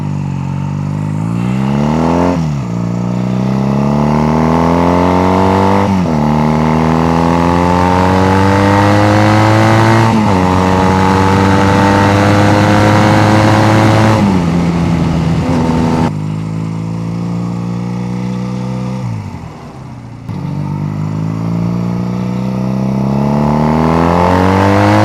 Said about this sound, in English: God, that exhaust is ridiculous though.